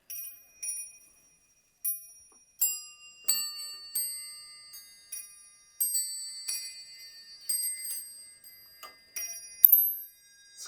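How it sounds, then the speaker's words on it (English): An 18th-century musical clock, made for Marie Antoinette, plays a bright tinkling bell melody of quick struck notes that ring and decay, in an uneven rhythm with short pauses, close and clear with no voices. "And it's also a musical clock."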